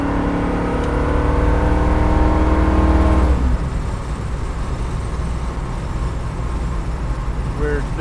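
A 1969 Ford Mustang Mach 1 with a 351 stroker V8 and overdrive accelerates on the road, its throaty engine climbing in pitch before a gear change drops it to a steady lower drone, heard from inside the car.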